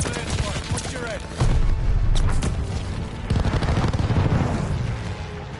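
Airstrike explosions and gunfire in a Call of Duty hardpoint match, with a loud booming onset partway through, then sustained heavy blasts and rapid shots, and a second surge of explosive rumble.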